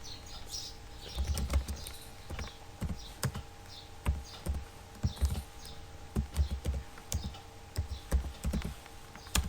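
Rapid clicking of C# code being typed on a computer keyboard, close and fairly loud, in uneven bursts of keystrokes with short pauses, no talking.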